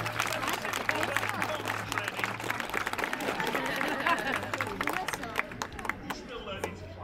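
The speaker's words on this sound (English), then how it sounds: "give him a clap" A sea lion show audience at Flamingo Land applauds, with dense clapping and crowd murmur filling the space while a steady low hum runs beneath and the applause fades toward the end.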